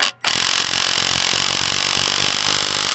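Power tool tightening the nut on a 2003 Toyota Tundra driveshaft center support bearing, a loud continuous whirring buzz that starts after a brief pause and runs steadily for a few seconds, close up with no talking.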